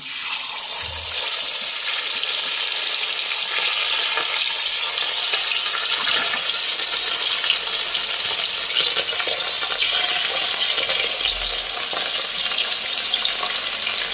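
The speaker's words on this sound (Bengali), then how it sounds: "বাটা মাছটা নুন হলুদ দিয়ে মিশিয়ে নিয়েছি, এবার আমি তেলে ভাজছি।" Bata fish seasoned with salt and turmeric frying in mustard oil, a steady loud sizzle with crackling spits that runs unbroken throughout, with no voices.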